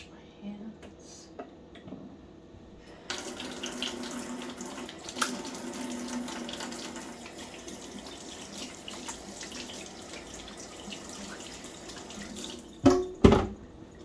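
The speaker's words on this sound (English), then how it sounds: "let me wash my hands" Hands washed under a running kitchen tap, a steady broadband rush of water flowing for most of the stretch with a few louder splashes and clunks near the end, close by, with no talk over it.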